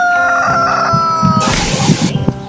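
Chickens and roosters call close by: a clear rooster crow rises over a stretch of throaty clucking, loud and without any talk.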